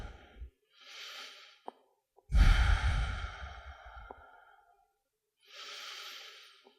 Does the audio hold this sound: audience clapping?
no